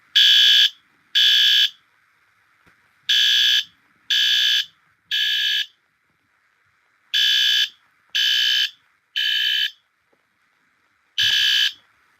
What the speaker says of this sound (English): That's the HR horn